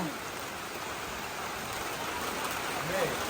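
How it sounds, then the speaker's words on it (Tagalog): Steady rain hissing evenly across the whole clip, a dense broadband wash with no pauses, moderately loud and close. "tuluyan na pong ulan dito"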